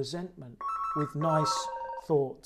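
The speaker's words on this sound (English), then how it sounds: "Sorry, that's my phone going off there." Mobile phone ringtone going off during a spoken talk, a repeating tonal electronic ring sounding in bursts beneath and between a man's continuing speech.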